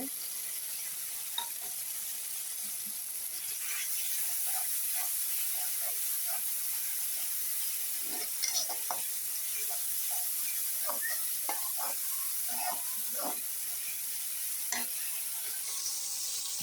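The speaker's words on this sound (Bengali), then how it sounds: "শুটকিগুলো ভালো করে ভেজে নেব" Dried fish (shutki) frying in oil with cooked-down spice paste in a pan: continuous hissing sizzle dotted with small crackles and pops, close up and steady throughout.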